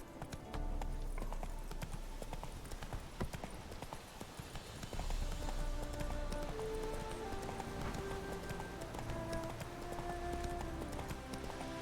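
Roach's hooves in The Witcher 3 beat a steady, rhythmic clip-clop for several seconds, mid-distance, over wind-like ambience and soft sustained game music.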